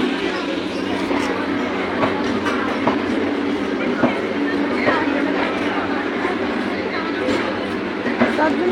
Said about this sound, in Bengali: দেখো এই ট্রেনটা শিয়ালদা যাচ্ছে